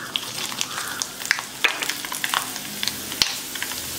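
Mustard seeds and urad dal crackle and pop in hot oil while tempering, a dense sizzle with scattered sharp little bursts, close and steady throughout.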